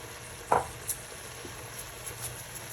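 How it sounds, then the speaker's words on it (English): Mushrooms sauté in a pan on the stove, giving a steady low sizzle with one sharper scrape or clatter near the start. Faint clicks follow, and no one speaks. "we're gonna add the mushrooms and let them saute for 3 to 5 minutes"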